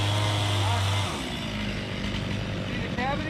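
Chainsaw cutting into a dead tree that holds a bee hive, a steady loud engine drone with a strong low hum, the pitch dropping slightly after the first second as the blade bites in, with no speech.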